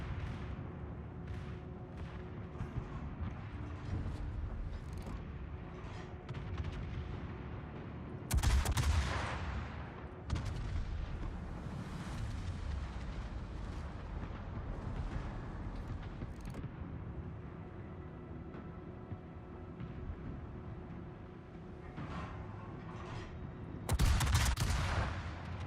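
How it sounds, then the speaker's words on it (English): Naval guns firing at an enemy battleship in World of Warships, deep booming salvos standing out at two points over a constant low engine rumble and mechanical creaks, with fainter thuds scattered between. "I'm shooting way far behind this guy."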